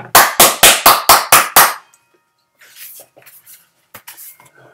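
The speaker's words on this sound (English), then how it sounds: "Keep clapping." Seven sharp, evenly spaced hand claps from children, loud and close in a quick steady rhythm, followed by a pause and a few faint scattered sounds.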